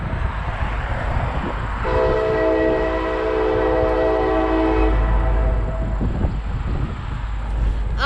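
A train rumbles past nearby as its horn blows one long, loud blast lasting several seconds, then the roar of the cars continues.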